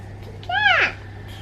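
A kitten gives one short, rising-then-falling meow, close and moderately loud, over a steady low hum, with no talk during the call.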